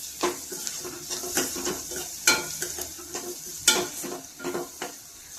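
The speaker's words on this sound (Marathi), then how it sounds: "लसणाचा कटकट वास जाईपर्यंत आपल्याला लसूण परतून घ्यायचं आहे." Garlic sautéing with asafoetida in a pan for bitter gourd sabzi, a bright steady sizzle broken by repeated spatula scrapes and stirring knocks at an irregular rhythm, close and fairly loud, with no talking.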